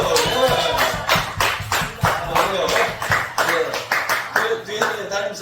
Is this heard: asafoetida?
no